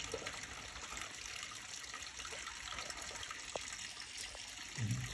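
Water flows steadily downhill, washing soil away outdoors, a continuous faint rushing hiss with a few small splashes and a low gurgle near the end, no voices over it.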